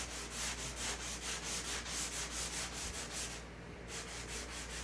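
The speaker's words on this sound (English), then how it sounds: "I've been falling in love with these little blocks of sandpaper." A handheld sandpaper block is rubbed back and forth across a wooden workpiece, scraping in a steady rhythm of close, even strokes that pause briefly near the end.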